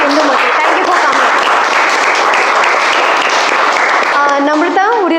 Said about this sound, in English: please give it a huge round of applause for our wonderful guest